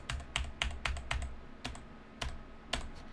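Typing on a computer keyboard gives sharp, distinct key clicks at an uneven pace, a quick cluster at first that thins out to scattered presses, close and fairly quiet.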